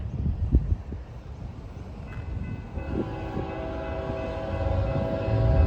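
A Norfolk Southern M89 manifest freight train passes in Gaffney, South Carolina, with low rumbling wheels and a steady sustained horn tone building in from mid-distance and growing louder.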